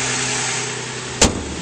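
A 2011 Toyota Sienna LE with a front-wheel-drive engine idles smoothly under the open hood, giving a steady even hum heard up close, broken once by a brief sharp click.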